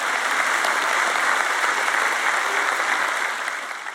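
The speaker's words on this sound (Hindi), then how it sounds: "देखिए, आप उतनी जोर से ताली नहीं बजा रहे जितनी किसी अन्य चीज के लिए बजा रहे हैं।" Sustained audience applause fills a church during a sermon, a dense steady wash of many hands that holds loud and even before tapering slightly near the end.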